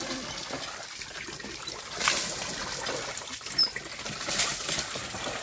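Water poured over a person during a bath, with light splashing and trickling bursts near the mic and brief voices in the background.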